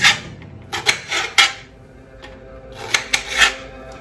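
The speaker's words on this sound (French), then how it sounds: "Donc on coupe l'oignon grossièrement" Knife strokes coarsely chopping an onion on a board for beef bourguignon marinade, a few crisp clustered cuts in two bursts separated by a pause, close and fairly loud, no talking.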